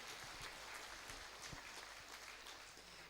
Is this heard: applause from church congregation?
yes